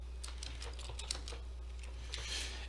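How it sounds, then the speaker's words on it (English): Someone types a password on a computer keyboard: a quick run of light, close key clicks in an irregular rhythm over a steady low electrical hum. "You'll assign a password here. Let me type that in."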